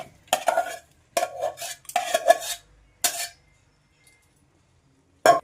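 Vegetables are tipped into a cooking pot for khichdi, giving several short bursts of clattering and stirring with metal against the pan, separated by quiet gaps and ending in one final knock.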